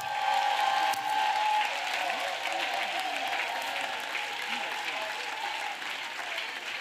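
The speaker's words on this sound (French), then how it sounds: "Clap for Jesus Christ." A church congregation at a prayer and intercession service claps for Jesus Christ, a sustained crowd of hands beating steadily, louder at first and easing slightly, with faint voices mixed underneath.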